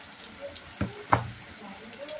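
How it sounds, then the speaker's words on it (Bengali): Water is poured into a pan of spiced chicken curry in a couple of short splashing bursts, nearby, over a low background. "দিয়ে দেবো অল্প একটু পানি।"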